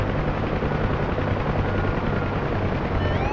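Simulated helicopter lifting off in a flight simulator game, a steady, loud broadband rotor and engine roar that holds constant throughout with faint rising whine tones near the end.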